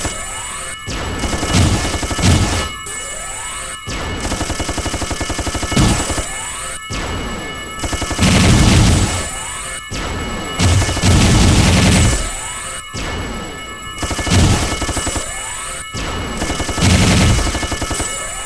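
A rocket fired in the video game Judgment Day, loud crashing blasts and rapid gunfire-like bursts that repeat in clusters over a continuous electronic hum, with no one talking.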